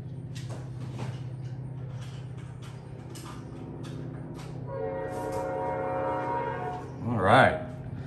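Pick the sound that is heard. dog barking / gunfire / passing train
passing train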